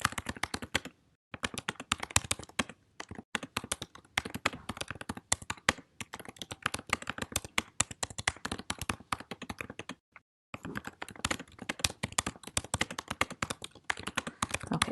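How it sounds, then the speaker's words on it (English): Fingers type quickly on a computer keyboard, giving dense clusters of light, close taps. There are a few brief pauses, and no one speaks. "So I might just type in some quick directions here."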